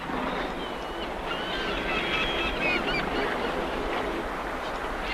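Geese flying south, a scattering of honking calls rising over a low rumbling background, moderately distant and irregular, with no speech.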